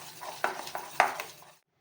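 A spoon stirs dhokla batter mixed with sugar, ginger-chili paste and oil, making a few soft wet scrapes with two sharper knocks against the bowl before going quiet.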